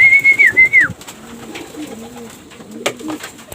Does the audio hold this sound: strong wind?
no